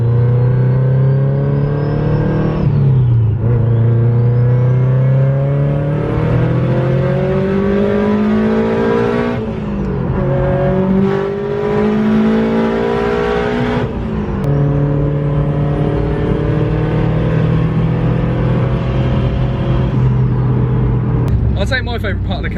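Subaru Impreza with a 2.1 stroker engine, around 506 bhp, revs repeatedly, its loud close engine note climbing and dropping through several long sweeps.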